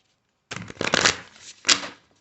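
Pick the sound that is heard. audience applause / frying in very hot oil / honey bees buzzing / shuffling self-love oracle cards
shuffling self-love oracle cards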